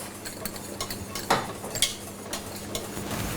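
Potato being folded into a dish with a spoon, soft scraping and stirring punctuated by a few brighter clinks of metal against the pot, close and fairly loud with no talk.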